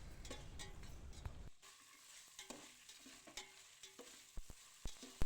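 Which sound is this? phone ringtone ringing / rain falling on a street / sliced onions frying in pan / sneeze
sliced onions frying in pan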